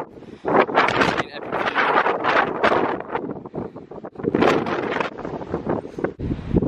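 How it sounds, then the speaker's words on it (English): Strong gusty wind buffeting the microphone on a mountain hike up Lion's Head in Cape Town, loud rushing bursts rising and falling in waves, close and dominant with no talking. "It's obviously getting windier."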